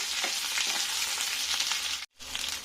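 Chopped raw banana pieces roast in hot oil, giving a steady, bright sizzle and crackle that continues evenly, close up, broken once by a brief gap near the end.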